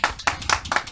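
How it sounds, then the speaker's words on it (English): A small studio audience claps at a live-streamed TV show: four quick, close, separate claps spaced evenly in under a second. "You guys clap, yeah."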